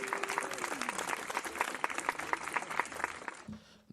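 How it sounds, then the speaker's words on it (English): Applause from a gathered audience after a gospel song during a live worship broadcast: dense, steady clapping close by, with a brief tonal sound early on, fading out near the end. "I'll clap it up for that song."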